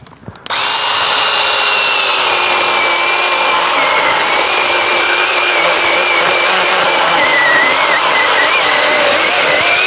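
A Sequoia SBC2004M mini chainsaw starts abruptly and runs at a high, steady whine while cutting wood, loud and close throughout with no talking.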